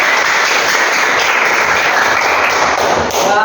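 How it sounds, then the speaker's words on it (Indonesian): Applause from an audience during a class session of an Indonesian teacher education program in Ambon, a dense, steady wash of clapping at full volume that continues throughout with no voices over it. "Kami akan aplaus dulu."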